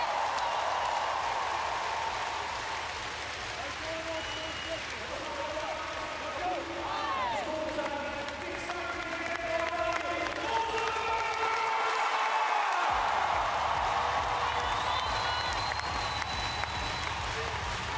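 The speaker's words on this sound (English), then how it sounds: "Nice to see that the players applauding the fans who have been applauding them throughout this match" Sustained applause and cheering from the crowd at a women's Volleyball Nations League match between the Netherlands and Bulgaria, steady and broad throughout, with a commentator talking over it.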